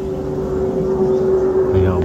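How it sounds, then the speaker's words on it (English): A large military jet passes high overhead near Bournemouth Airport, a steady low drone with a sustained tone that grows slightly louder toward the end, heard over a quiet outdoor carp-fishing lakeside. "Big old military jet up there"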